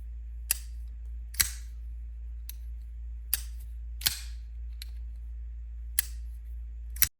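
A thin Quiet Carry pocket knife with contoured scales is flicked open and shut, giving seven crisp, close clicks spaced about a second apart over a steady low hum.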